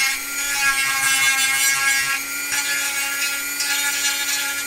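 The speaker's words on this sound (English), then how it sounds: "The Dremel is really fast" A Dremel rotary tool sanding, a high, steady whine with a constant motor tone and gritty abrasive rasp, close and loud, with brief shifts in pitch as pressure changes.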